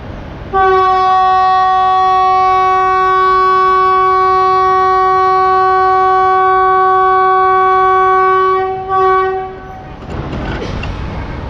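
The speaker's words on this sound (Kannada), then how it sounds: "At 1:46 we are departing from the Subramanya Road railway station." A train horn blares in one long sustained blast lasting about nine seconds as the train departs Subramanya Road railway station in India, then cuts off, leaving rumbling railway noise.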